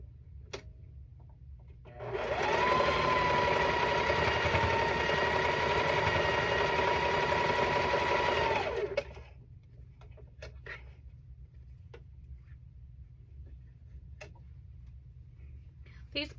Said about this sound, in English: we're gonna sew along this line here